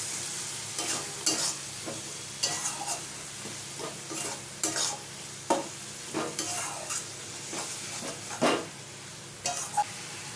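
Yogurt being stirred into a spice masala in a pan, for a curry of green jackfruit and potato, with soft sizzling under repeated scraping strokes at an uneven rhythm. The sound is close up, and no one speaks.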